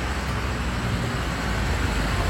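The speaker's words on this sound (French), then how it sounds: "Il y a grave de la circulation" City street traffic in central Ubud in the early morning, a dense continuous roar of passing vehicles and engines, close and steady with no clear gaps.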